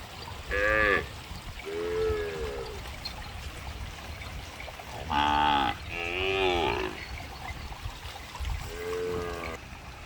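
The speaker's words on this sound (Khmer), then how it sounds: "នេះកូនគោវាកំពុងតែ ស៊ីស្មៅ នេះកូនគោ ហើយមេគោដូចជាវាដើរទៅមុនអស់នេះសល់តែកូនគោតូច" Cattle in a Cambodian village near Tboung Khmum lowing, including a small calf grazing. Five drawn-out moos arrive close by with pauses between them, over a faint trickle of water.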